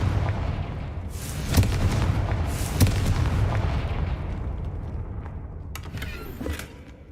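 Confringo blasting spells cast in Hogwarts Legacy: a series of sharp booming blasts, two strong hits early then fading rumbling bursts and a final pair of cracks, loud and close with no talk.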